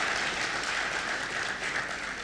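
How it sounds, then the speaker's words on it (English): Attendees at a Development Bank of Nigeria annual lecture applaud the lecturer, a steady, moderately loud wash of many hands clapping that carries evenly from start to finish without any voices. "Can we give him a round of applause, please?"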